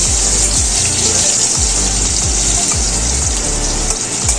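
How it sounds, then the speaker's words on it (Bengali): Potato pieces seasoned with turmeric and salt fry in oil in a pan, giving a loud, steady sizzle with soft low thumps recurring every half second or so. "আলুগুলোকে ভেজে নেব।"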